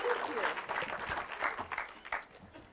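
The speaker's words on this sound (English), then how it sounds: "We can clap a little louder than that, guys." Applause from a keynote audience at a performance marketing event, a moderate patter of many hands with some crowd murmur, fairly quiet and uneven.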